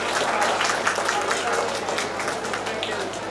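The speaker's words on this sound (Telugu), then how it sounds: "కొంచెం క్లాప్స్ కొట్టండి" An audience at a school alumni gathering claps, a dense and steady patter of many hands, close and fairly loud, with voices mixed in.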